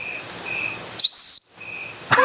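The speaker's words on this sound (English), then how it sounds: "It's a whistle." A small whistle built into a Buck Knives 863 Selkirk knife sheath gives one short, loud, piercing blast lasting under half a second, with faint background tones around it and a brief rustle afterward.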